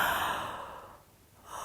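A person yawns with a long, breathy exhale while stretching during a guided wake-up body exercise, close and soft, trailing off into quiet before a fresh inhale.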